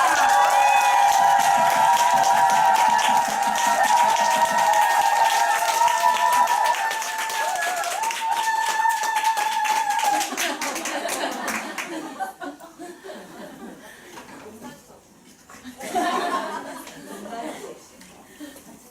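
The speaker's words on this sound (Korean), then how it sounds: "큰 환영의 박수로 맞아주시기 바랍니다." A business seminar audience breaks into welcoming applause mixed with cheers and laughter, loud at first over background music, then thinning to scattered clapping and chuckles before a voice starts speaking near the end.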